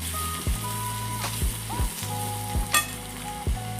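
A masala of red chili, garam masala and coriander powder fries in a pan with a continuous close sizzle, while a spatula scrapes and stirs in repeated strokes over a low humming tone.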